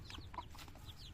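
Young chicks, a native cross with Rhode Island chickens, peep and cheep in soft high calls inside a netted enclosure on a farm, faint and scattered over a low background hum.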